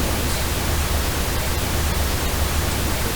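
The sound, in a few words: pink noise test signal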